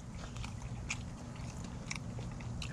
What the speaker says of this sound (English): Going on this last asada taco.